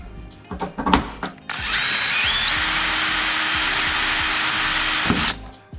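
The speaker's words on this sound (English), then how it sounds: "now after you drill the holes, take off your tape." Power drill boring holes through a fiberglass Rocket Bunny V2 rear spoiler on a Mazda Miata, a loud, steady high-pitched whine held for several seconds after a few short bursts, close up with no talking.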